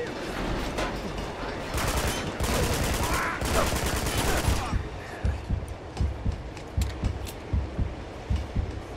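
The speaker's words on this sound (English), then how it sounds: "After three fucking shots, I'm already almost dead." Dense gunfire from the Uncharted 2 video game, with rapid automatic bursts in the first half giving way to a steady series of spaced, heavy thuds, loud and close throughout.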